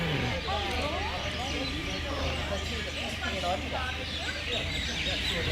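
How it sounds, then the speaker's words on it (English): Birds chirp and call in quick, overlapping bursts at night in Jamestown on a remote island, over a steady low background hum, fairly close and continuous throughout. "listen to the sound of birds"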